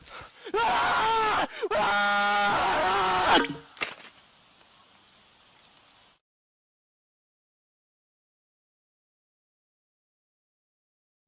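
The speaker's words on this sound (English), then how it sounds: "two guys walking out into this dark forest before a loud scream can be heard" A loud scream rings out in a dark forest at night, a strained, wavering cry of a few seconds that breaks off into gasps and a fading rustle, followed by silence.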